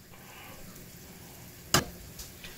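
Capers fry in a pan with a faint, even hiss. A single sharp clack of a utensil against the pan breaks in as they are mixed, followed by a lighter tap. No speech.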